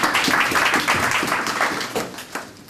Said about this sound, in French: Est-ce que nous pouvons applaudir pour le Seigneur?